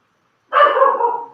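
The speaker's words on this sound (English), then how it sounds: "Right on, a dog agrees." A single dog bark, a close, loud, slightly drawn-out woof lasting under a second, alone after silence.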